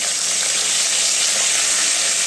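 Bay leaves and fenugreek seeds sizzle loudly in hot oil for an eggplant curry, a close, dense, steady hiss filling the whole stretch without any talking.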